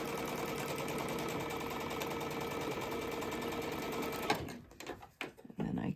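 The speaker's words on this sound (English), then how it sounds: "I can reach around and continue chain piecing with these units" A sewing machine chain-piecing churn dash quilt block units runs in one steady, close, continuous whir, then stops and gives way to soft handling sounds and fabric rustle.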